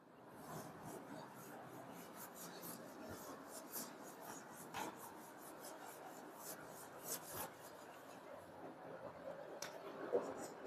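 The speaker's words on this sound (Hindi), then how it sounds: "अब मैं रब कर रहा हूं" A board eraser rubs across a classroom board to wipe away writing, a steady scratchy rasp of repeated strokes held at a moderate, even level.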